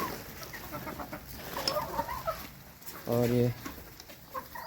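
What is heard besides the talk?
chickens and roosters clucking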